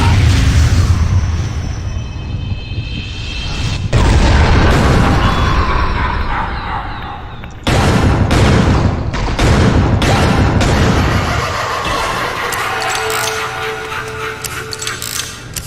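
Gunshots from a special attack in Killer7: dense, loud bursts of firing and booming impacts with mechanical clanks, several sharp cracks punctuating a sustained, roaring din.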